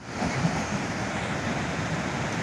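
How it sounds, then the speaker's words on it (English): Niagara Falls roars as a steady, dense wash of falling water, constant and unbroken for the whole stretch, with no voices. "recording at Niagara Falls"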